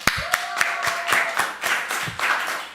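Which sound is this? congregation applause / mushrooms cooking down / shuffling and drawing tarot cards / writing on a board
congregation applause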